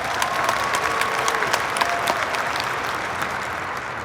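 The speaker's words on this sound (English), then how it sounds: "Let's clap it up" Loud, close audience applause at a keynote conference event, a dense wash of many hands clapping with a few sharp individual claps standing out, holding steady and only slightly tapering toward the end.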